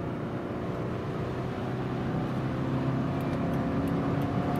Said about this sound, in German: die Windgeräusche übertönen dann anscheinend den Motor